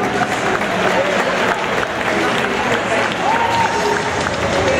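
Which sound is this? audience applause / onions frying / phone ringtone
audience applause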